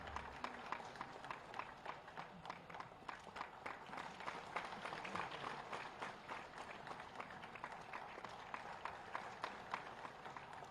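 An audience in Uttar Pradesh applauds teachers at a Teachers' Day state teacher award ceremony. The clapping is dense, steady and sustained, heard from a distance and fairly quiet.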